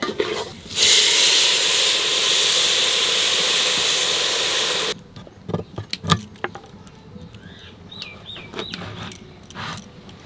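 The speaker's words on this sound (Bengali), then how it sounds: "এইবার আমি জল দিয়ে দেবো" Water hits a hot pot of bhuna khichuri with a loud burst of hissing sizzle and steam for several seconds, then gives way to quieter scattered stirring clinks and bubbling.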